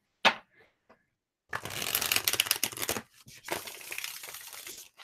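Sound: shuffling a deck of tarot cards

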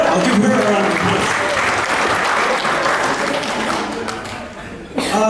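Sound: wedding guests applauding

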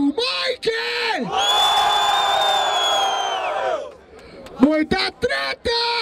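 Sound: crowd cheering and shouting at a rap battle

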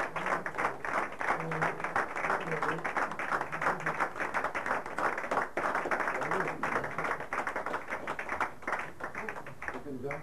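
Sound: audience applause at an award ceremony

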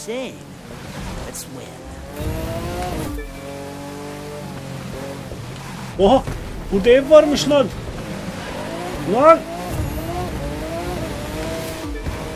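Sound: street car racing in video game The Crew 2

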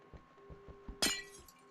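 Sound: glass block breaking in the video game Minecraft

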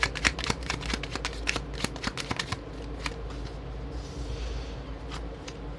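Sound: shuffling fortune-telling cards

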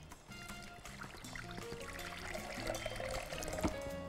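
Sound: water for boiling fruit with its peel

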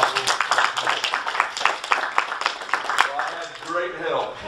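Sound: audience applause for the worship leader

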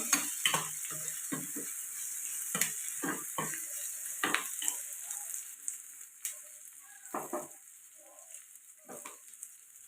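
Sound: onions frying while being stirred in a pan

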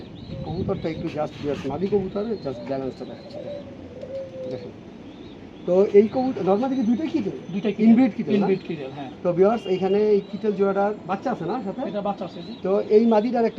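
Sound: racer pigeons cooing

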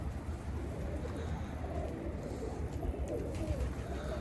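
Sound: pet birds cooing, likely pigeons

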